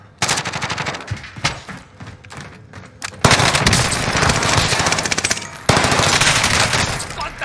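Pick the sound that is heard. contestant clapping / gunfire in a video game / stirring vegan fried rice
gunfire in a video game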